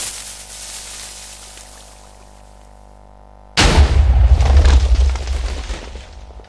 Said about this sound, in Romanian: Cred că a explodat în aer.